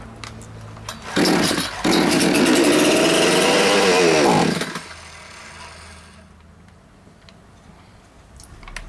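A Chinese gasoline chainsaw, just reassembled after stalling during break-in with a clogged carburetor, is pull-started and roars loudly for a few seconds with a wavering engine pitch, then dies back to a low idle-like rumble and quiet.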